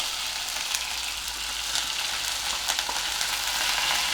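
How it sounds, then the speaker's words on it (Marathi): Ground masala and chopped brinjals for bharli vangi sizzling steadily in a hot pan, with a continuous bright frying hiss and a few soft scraping stirs, close and fairly loud with no talking. "ते व्यवस्थित परतून घ्यायचं आहे"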